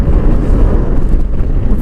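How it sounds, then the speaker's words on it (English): Loud, low buffeting of strong wind battering the microphone during a Honda Goldwing trike ride, a heavy continuous rumble that swells and dips slightly. "Kind of windy."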